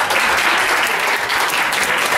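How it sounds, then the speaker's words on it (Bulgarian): Dense, continuous applause from a crowd at a charity bowling tournament, many hands clapping loudly and evenly throughout. "аплодисменти"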